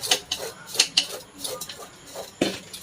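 Metal pot lid set over a pan of melting sugar on the stove, giving a few light clanks and clinks scattered across a short stretch, fairly close, with no talking.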